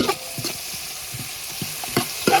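Garlic, green chili and ginger fry in a pan and are stirred, producing a soft background sizzle broken by several short scraping clinks of the spoon against the pan, close by and with no talking.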